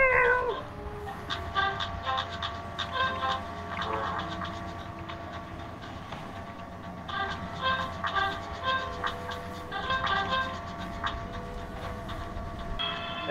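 Cartoonish cat meows from a fire kitty in a video game minigame repeat in rhythmic clusters over a steady droning game soundtrack, bright and close throughout.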